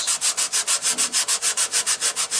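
Coarse-grit sandpaper rubbing against a wooden goblet spinning on a lathe, a close, loud, steady rasping with a fast regular pulse of about six strokes per second, no voices.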